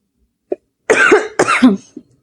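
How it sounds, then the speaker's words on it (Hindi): A few harsh, close coughs in quick succession, preceded by a small throat sound, with no talking. "सॉरी गाइस, खांसी हो रही है"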